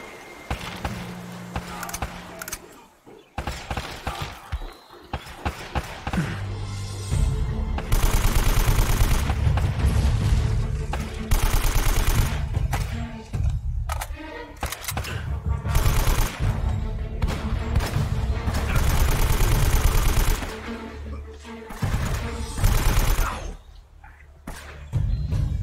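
Bursts of heavy gunfire in the game Uncharted: Drake's Fortune Remastered crackle and thump in rapid volleys, separated by brief quieter gaps, loud and close throughout.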